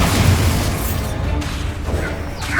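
A Bombarda blasting spell goes off in Hogwarts Legacy, a single heavy boom at the start followed by a rumbling, decaying crash of debris in a catacomb setting, loud and close with no talk.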